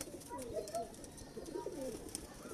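Two low, throaty pigeon coos roll out in quick succession, close by and moderately loud, from home-bred birds of the Mian Nazeer bloodline over a steady background hum.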